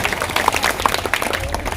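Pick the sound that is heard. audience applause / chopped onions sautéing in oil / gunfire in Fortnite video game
audience applause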